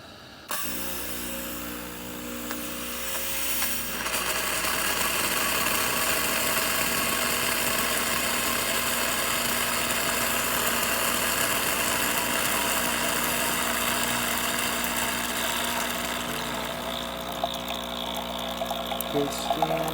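A Breville XL espresso machine runs its water pump while dispensing hot water, a steady humming drone with a bright spraying hiss over it after a brief click at the start, continuous for about twenty seconds.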